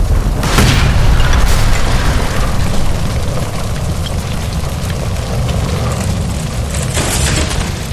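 A gas line blows up in the L.A. Noire video game, a loud, sustained explosive roar with a deep rumble that keeps filling the space for several seconds, punctuated by sharper bursts near the start and end.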